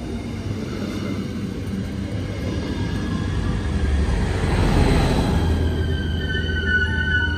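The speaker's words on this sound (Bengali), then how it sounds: "তো স্কিমটা থেকে আমরা ট্রেন নিলাম, প্রায় 20 মিনিটের মধ্যে ট্রেন জার্নিটা ছিল।" A steady rumble of a moving train during a roughly twenty-minute rail journey in the Netherlands. The drone is continuous and swells slightly toward the middle, with no talking.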